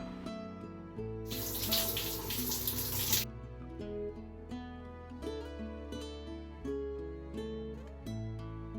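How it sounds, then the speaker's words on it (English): Running water gushes for about two seconds as hair is rinsed under it, loud and close, over steady background music that continues before and after. "I rinse it thoroughly with the lukewarm water"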